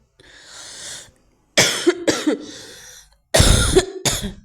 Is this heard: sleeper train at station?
no